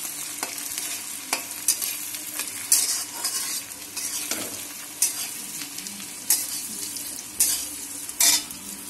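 Onions frying in a pan for Bengali mutton curry, giving a loud continuous sizzle broken by repeated scraping stirs of a utensil against the pan.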